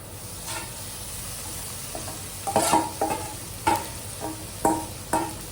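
Pieces of sora (shark) fish fry in a pan of oil with a steady sizzle, broken by louder bursts of hissing each time the pieces are stirred or turned.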